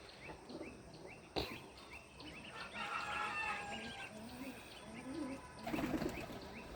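Young roosters crow among a flock of chickens in the morning, several drawn-out calls rising at a middle distance over steady background clucking and rustling, with a few louder bursts of wing flapping.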